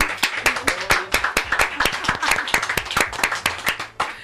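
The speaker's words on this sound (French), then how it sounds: "on va applaudir l'arrivée." A radio studio crowd claps in a quick, dense burst of close, loud applause to welcome a guest on air, with a few faint voices mixed in.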